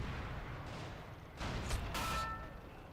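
Tank gunfire during a World War II strategy game match against a Panzer I, with a low rumbling bed, then two broad blasts and a ringing metallic tail; fairly loud, no talking.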